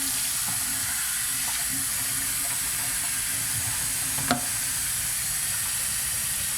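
Continuous rushing water runs steadily while film is washed during home development with caffenol, broad and even throughout with one small clink partway through.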